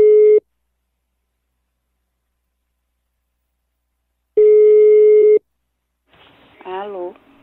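Telephone busy tone after dialing: two short loud bursts of a steady beep separated by a long silence, close and clear, followed by a voice briefly speaking.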